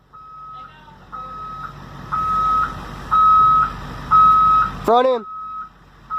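A school bus backs down a slippery slope, its reversing alarm sounding a steady series of loud electronic beeps at even intervals while men call out directions over it, followed by a brief chirping squeal.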